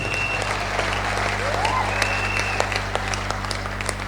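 A church congregation applauds in worship, a steady wash of clapping at moderate level with a low hum underneath, some voices mixed in.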